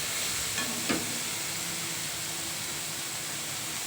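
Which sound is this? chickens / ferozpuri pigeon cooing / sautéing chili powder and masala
sautéing chili powder and masala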